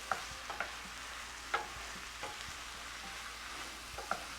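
Vegetables simmering down in a pan with a splash of broth give a steady, soft sizzle, broken every so often by light clicks of stirring, with no talk.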